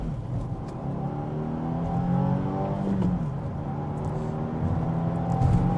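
A Subaru WRX TR accelerates hard from inside the cabin, the turbocharged engine's rising drone climbing in pitch through gears, with a brief dip at a shift and steady road noise underneath.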